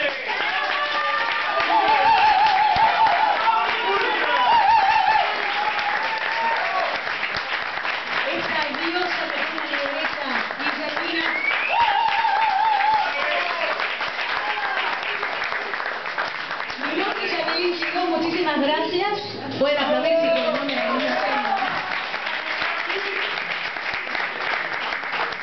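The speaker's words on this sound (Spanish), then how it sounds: "Pido un fuerte aplauso para Javier en guitarra" Long, warm audience applause for a guitarist at a live tango performance, steady clapping from a room crowd with voices and cheers mixed in throughout.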